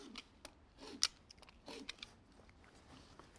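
Scissors snipping strips of duct tape by hand, a series of quiet, close, irregular crisp cuts and crackly tape noises with short pauses between them.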